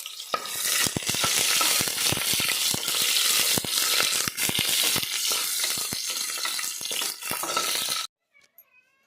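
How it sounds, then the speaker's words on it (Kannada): Mustard seeds and curry leaves crackle and sizzle in hot oil, tempering for a home-cooked vegetable sambar. Loud, dense popping and spattering runs continuously and close up, then cuts off abruptly near the end, leaving near silence. "ನೋಡಿ, ಎಣ್ಣೆ ಬಿಸಿ ಆಗಿದೆ. ಇದ್ರಾಗೆ ಸ್ವಲ್ಪ ಸಾಸಿವೆ ಹಾಕ್ಕಂತೀನಿ."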